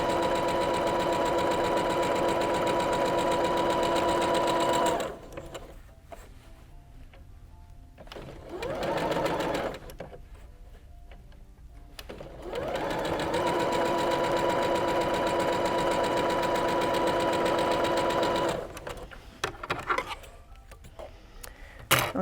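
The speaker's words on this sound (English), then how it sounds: "we're going to go to the machine and sew these up" A sewing machine joins quilt block pieces in long, loud, steady runs of rapid stitching, separated by quiet pauses with faint handling noises between seams.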